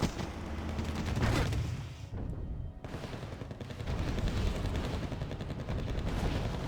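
Dense in-game gunfire and explosions from a Wargame Red Dragon battle, with vehicles under fire, a continuous loud barrage of shots and blasts with a brief lull midway and no talk.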